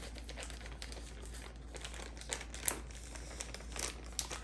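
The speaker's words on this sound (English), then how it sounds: "you can seal the bag just like you seal any type of freezer bag" A plastic freezer bag being pressed shut, with soft crinkling and small clicking snaps repeating irregularly, quiet and close, with no talk.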